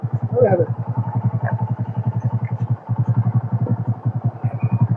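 A motorcycle engine thuds in a fast, steady rhythm close up while riding, with a brief dip partway through.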